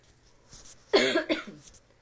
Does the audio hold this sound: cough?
yes